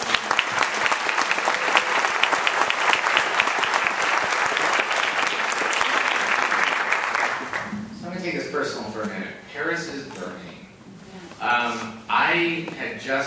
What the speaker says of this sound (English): Please give a round of applause for all of the people.